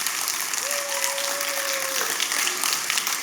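Audience applause in a church service, a steady broadband wash of clapping holding evenly throughout, with a faint sustained tone rising briefly under it partway through.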